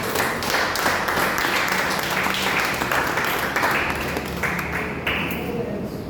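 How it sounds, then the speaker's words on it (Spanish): Church congregation applauding during a Spanish-language worship service, a loud sustained wash of clapping with voices mixed in, fading slightly toward the end. "Den un aplauso al Señor en esta mañana."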